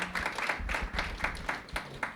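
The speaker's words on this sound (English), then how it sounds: "Yes, yeah, you can clap" An audience at an evening talk claps briefly, scattered quiet hand claps from a small crowd.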